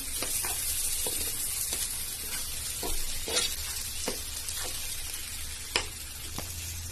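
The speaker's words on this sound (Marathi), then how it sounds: "भिजवलेले तांदूळ टाकायचे तांदूळ टाकल्यावर थोडंसं ढवळून घ्यायचं" Soaked rice tipped into a pot of cooking masala for dal khichadi and stirred, a steady sizzle under repeated scraping spoon strokes, close and moderately loud with no talking.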